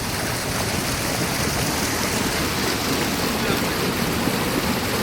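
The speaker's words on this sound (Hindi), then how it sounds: "पानी की आवाज़" A mountain stream at Thandiani near Abbottabad, Pakistan, rushes in a loud, unbroken wash of water that stays steady and close throughout.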